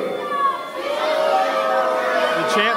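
Crowd in a wrestling arena at an Elev8 Pro show, many voices yelling and chanting back at the champion in a dense, sustained roar that stays loud throughout.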